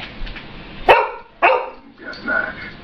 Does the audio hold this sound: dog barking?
yes